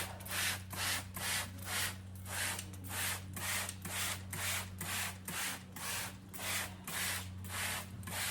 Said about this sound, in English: If it works, I'm going to scrub the whole basement wall.